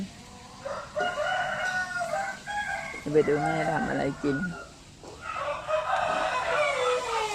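Chickens, with a rooster crowing loudly near the middle and hens clucking around it, mixed with a woman's speech that runs through most of the stretch.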